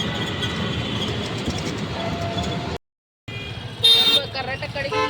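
A Delhi Metro Pink Line train at Rajouri station rumbles past with a steady mechanical roar, a brief cut in the sound midway, then a short bright horn-like tone over continuing rail noise.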